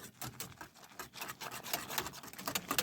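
A wire whisk stirs porridge in a pot, making steady scraping and rubbing strokes that pulse in a quick, uneven rhythm. It is close and moderately loud, with no voices.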